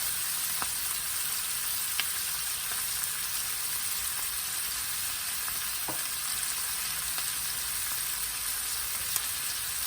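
Cabbage fries steadily in a pan, seasoned with chicken bouillon and black pepper, with a constant close sizzle broken by a few sharp scrapes and clicks as it is stirred.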